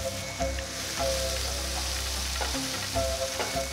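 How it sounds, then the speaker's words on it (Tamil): Steady loud sizzling of finely chopped onions frying in hot oil, with occasional crackles and stirring scrapes throughout. "இப்போது இதில் 2 மீடியம் சைஸ் வெங்காயம் பொடியாக நறுக்குனது அதை சேர்க்குறேன்."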